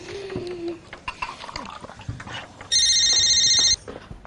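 A telephone rings loudly in one sustained electronic trill lasting about a second, heard after some scattered household noises and background sounds in a domestic comedy scene.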